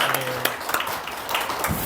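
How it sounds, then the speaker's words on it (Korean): A church congregation claps in thanks after a Sunday service prayer, a dense, steady patter of many hands at moderate distance with a few sharper claps standing out over the room. "우리 이조성 교사님께 다시 한번 감사의 박수를 드리겠습니다"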